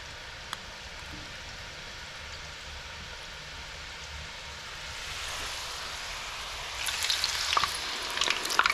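Murukku sizzles in hot oil for Diwali, a steady crackling hiss that grows busier and brighter toward the end, with faint scattered pops.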